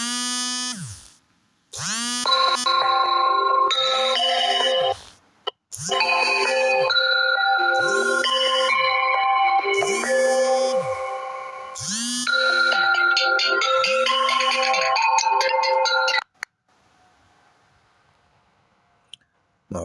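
A phone ringtone plays over and over as repeated calls come in, a bright melodic tone sounding in even bursts for about sixteen seconds, then it stops and near silence follows.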